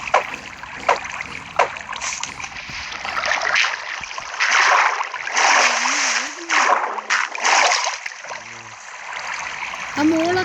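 Water splashes and flows in the block-building game Minecraft, bursts of splashing and trickling rising and falling over several seconds while a person talks over it.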